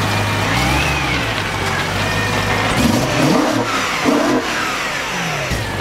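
A rebuilt BMW M3 engine revving up and down repeatedly, loud and close, with throaty rises in pitch over a steady running rumble.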